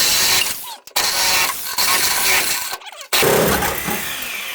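A saw blade cuts through the car body of a V8-swapped Mazda Miata, a loud continuous harsh grinding roar broken by two brief pauses as the blade stops and restarts.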